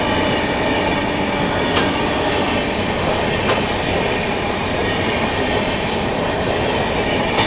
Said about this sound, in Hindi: तेलंगाना स्किप करते हुए निजामुद्दीन रेलवे स्टेशन निकल रही है अपने से पहले